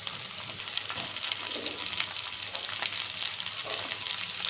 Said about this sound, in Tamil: 5 பூண்டு பற்கள், கொஞ்சோண்டு இஞ்சி துண்டு, இது எல்லாத்தையும் ஃப்ரை பண்ணி எடுத்துக்கலாம்.